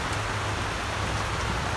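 Steady rain falling outdoors on a stuffy day, a dense even hiss of drops on surfaces that holds constant throughout, with no voices.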